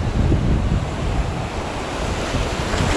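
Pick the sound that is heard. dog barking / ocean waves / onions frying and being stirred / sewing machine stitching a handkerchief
ocean waves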